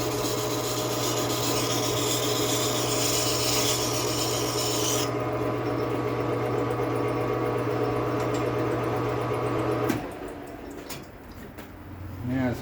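Old silicone is scraped off a part during a motorbike build. A loud, continuous rasping scrape runs for about ten seconds and then stops, leaving quieter handling noise.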